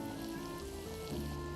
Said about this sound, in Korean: 앞뒤로 지글지글 구워줍니다.